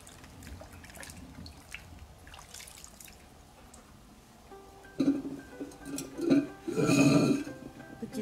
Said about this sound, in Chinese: 把它清洗一下就可以泡了